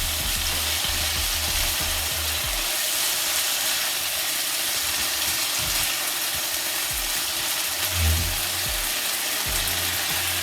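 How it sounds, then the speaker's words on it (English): Saltfish and pepper sizzle steadily in a hot pan while being stir-fried for Jamaican ackee and saltfish, with low scraping and stirring knocks underneath. "And then we're just gonna stir here,"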